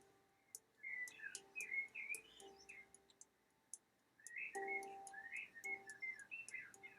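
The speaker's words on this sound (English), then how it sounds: "that's a blackbird you can hear now" A blackbird sings outdoors in two bursts of fluted, warbling whistled phrases with a short pause between, fairly clear over a faint steady background hum and scattered high ticks.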